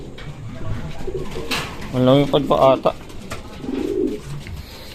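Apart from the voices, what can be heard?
racing pigeons cooing in loft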